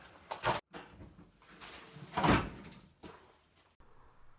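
A hoop house door slides open while its plastic sheeting bunches up, giving two loud rustling, scraping surges with a quieter crinkle between them and a brief thump.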